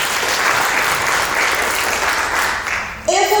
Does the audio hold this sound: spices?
no